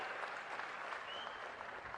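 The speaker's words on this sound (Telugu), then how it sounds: "గట్టిగా చప్పట్లు కొట్టి అభినందించండి." A crowd of listeners at a public gathering claps steadily in a continuous, fairly faint wash of applause with no distinct individual claps standing out.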